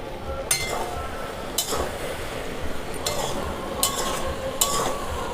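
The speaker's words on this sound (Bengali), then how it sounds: "2 মিনিট পর এবার খুলে একটু নেড়ে দেব।" Taro leaves (kochu shak) being stirred in a pan, with five sharp scraping clinks of a utensil against the metal at irregular intervals over a soft, steady cooking hiss.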